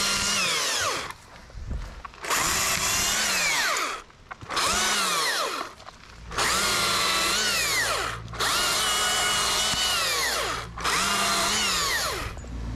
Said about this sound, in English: I'm gonna use my chainsaw.